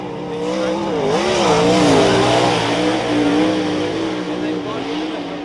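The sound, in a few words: sprint car engine accelerating hard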